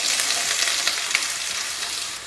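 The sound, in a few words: small onions sizzling as they fry in hot oil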